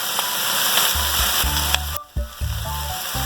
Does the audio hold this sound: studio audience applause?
no